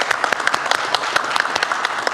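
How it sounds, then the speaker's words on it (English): Applause for a new school principal at a school board meeting, short and moderately loud, with distinct sharp claps from a small group standing out in an uneven rhythm. "How about a round of applause for our new principal out there?"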